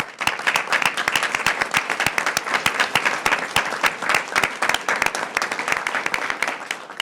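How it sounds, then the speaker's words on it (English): Audience at a school board of education meeting applauds award winners, a dense, steady burst of many hands clapping that fills the room for several seconds without pause. "I'd like to give one more round of applause for all of our award winners tonight"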